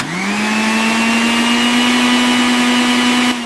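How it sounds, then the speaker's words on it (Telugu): A kitchen mixer grinder blends chutney in a jar, its motor whining loud and steady at a constant pitch for the whole stretch, with no talk over it. "ఏంటే హరిత, మిక్సీ వేసి జార్ మీద మూతలా చూస్తూ నిలబడ్డావేంటి?"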